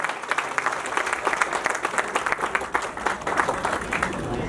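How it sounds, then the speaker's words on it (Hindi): An audience at a Hindi poetry gathering (kavi sammelan) breaks into applause, a steady patter of many clapping hands with audible individual claps, fairly close and lively, sustained for several seconds. "एक बार मेरे कहने से भी जोरदार तालियां"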